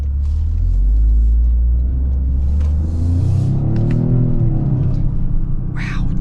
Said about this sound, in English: Wow, the gear shifts are very responsive.